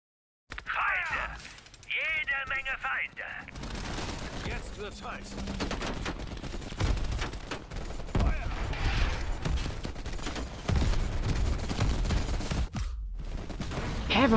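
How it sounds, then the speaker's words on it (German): Rapid automatic gunfire from the video game Call of Duty Black Ops Cold War is aimed at towers, with sustained bursts and mechanical clatter running for several seconds, mixed with other game sounds. "Er schießt doch drauf, warum explodieren die nicht, die Türme?"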